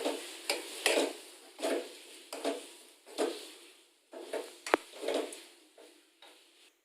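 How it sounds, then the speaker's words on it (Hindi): A spoon stirs garam masala into onion samosa filling in a pan, making about eight rhythmic scraping strokes, each with a light clink, loud and close with no speech. "अब हम इसमें थोड़ा 1 छोटी चम्मच जो है गरम मसाला ऐड कर देंगे और इसे अच्छे से मिक्स कर लेंगे"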